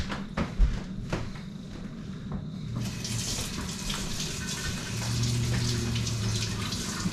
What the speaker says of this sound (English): I'm gonna warm water on my hands